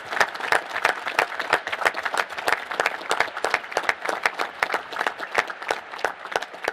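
Sustained applause from an audience at a National Space Council meeting honoring council members, dense steady clapping throughout with no speech over it.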